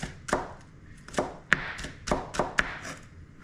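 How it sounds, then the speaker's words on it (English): A knife chops an ingredient finely on a board for crayfish dumplings, about seven or eight crisp, close strokes at an uneven rhythm with short pauses between them. "Chop it really finely."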